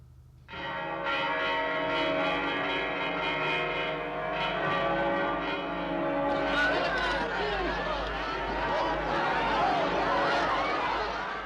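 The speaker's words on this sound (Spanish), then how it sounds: "volvieron a repicar las campanas" Church bells ring out steadily at the end of the Spanish Civil War, their sustained tones layered over a murmuring crowd whose chatter swells in the latter half.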